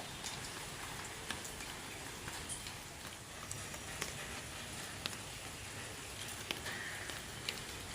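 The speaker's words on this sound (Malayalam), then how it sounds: "നല്ല മഴയുണ്ട്." Rain falls steadily as a dense, even hiss with scattered sharper drops hitting a surface. Fairly quiet and distant-sounding, with no voices.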